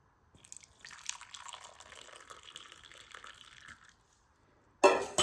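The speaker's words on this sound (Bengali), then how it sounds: "তো বন্ধুরা চাটা এবার আমি ছেঁকে নিই।" Masala tea being strained, a soft, thin trickle of liquid pouring through a strainer for about three seconds, followed by a brief louder clatter near the end.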